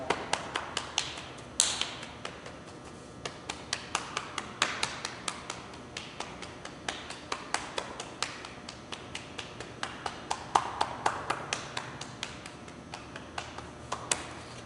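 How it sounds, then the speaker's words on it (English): Rhythmic tapping and knocking of hands on the body during a qigong session, working over the chest, shoulders and down the arms; a steady series of light, close slaps and knocks with a louder flurry early on, no talk. "You can knock on kidneys, glutes, around your hips"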